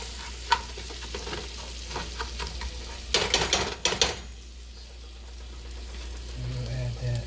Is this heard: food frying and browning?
yes